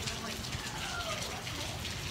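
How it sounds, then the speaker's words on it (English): Steady rain falls outdoors on a road trip near the Golden Gate Bridge, a continuous close hiss of drops on surfaces that fills the whole moment, with faint background murmur underneath. "It's raining."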